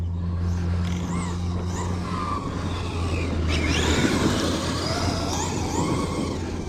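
A Kyosho USA-1 RC monster truck runs and accelerates, its motor whining and rising in pitch in repeated bursts over a low hum, fairly faint outdoors.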